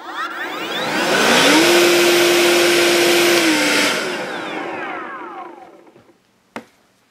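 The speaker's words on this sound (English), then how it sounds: "the green blower, it's gotta be one of the best ones out there. It inflated a whole jean." A green electric blower runs up to a loud whining roar with a steady pitched tone, holds, then winds down over a few seconds as it inflates a pair of jeans, ending with one sharp knock.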